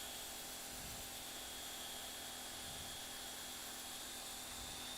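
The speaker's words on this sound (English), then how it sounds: "We will power sand, starting at 180, slow the lathe down, drill turning in the opposite direction of the lathe." A drill spinning a sanding pad against a turned workpiece on a slowed lathe, starting at 180 grit, gives a continuous loud broadband whir and hiss with a faint low rhythmic pulsing, and no talking.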